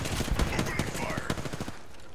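Rapid automatic gunfire in the video game Apex Legends, a loud burst of closely spaced shots with sharp cracks and echoing impacts, under a player's voice.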